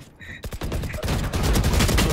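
Gunfire in a custom Escalation and Deathmatch video game match, with dense overlapping shots building into a loud, continuous fusillade after a brief quieter opening.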